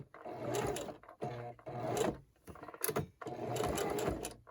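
A sewing machine sews binding onto a Christmas table runner in short bursts of stitching, separated by brief pauses, close and moderately loud with no voices.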